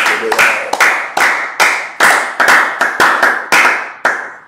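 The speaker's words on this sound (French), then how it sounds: "Acclamons très fort le Seigneur" A church congregation claps loudly in a steady, rhythmic beat, around nine sharp, close claps ringing out in quick succession with no voices over them.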